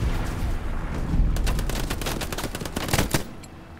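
MG42 machine gun fire in Hell Let Loose, sustained loud bursts of rapid automatic shots with heavy booming gunfire and battle noise, a dense rattling stream that thins near the end.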